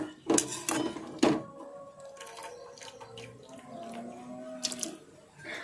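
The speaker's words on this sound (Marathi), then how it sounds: "इथे आपण थंड पाणी घेतलं आहे याच्यामध्ये भाजी घालून घेऊया" Water splashing and sloshing in a basin as roselle (ambadi) leaves are washed in cold water, a few louder splashes early, then quieter trickling and handling sounds.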